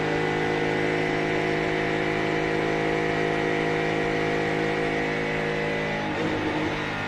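A NASCAR Cup race car engine at the Watkins Glen road course runs continuously at close range from inside the car, a dense, loud, steady drone with slight variation and no talk over it.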